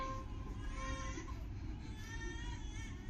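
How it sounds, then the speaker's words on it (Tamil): A baby cries steadily in a Chennai stage performance, a thin wailing cry over a constant low rumble of background noise. "ஏடி குழந்தை அழுவுறது கேட்கல"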